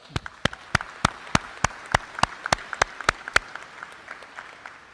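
Sharp, evenly spaced claps ring out about every third of a second at a school signing day, with scattered lighter clapping and murmur underneath, all fading after about three and a half seconds.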